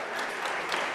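Applause from a convention audience at a national dialogue gathering in Pretoria, a dense steady wash of clapping filling the whole second with no talk over it.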